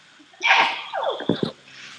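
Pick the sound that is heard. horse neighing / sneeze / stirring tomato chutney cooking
sneeze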